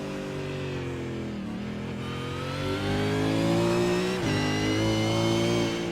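A V8 Supercar race car sweeps through the esses at Bathurst during the Bathurst 1000, its engine droning steadily with pitch rising and falling through the bends, loud and continuous with no voices.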